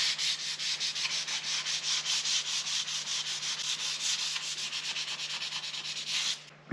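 Hand sanding rubbing down lacquer on a Squier Stratocaster guitar neck, a close, rapid back-and-forth scratchy rasp repeating in an even rhythm throughout, alone with no voices.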